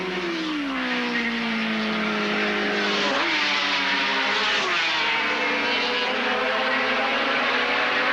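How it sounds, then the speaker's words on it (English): A racing motorcycle at the 1982 Swann Series at Surfers Paradise accelerates hard, its engine note climbing and dropping as it shifts up a gear, loud and continuous with faint commentary underneath. "Johnson changes up a gear and he takes a full handful of throttle"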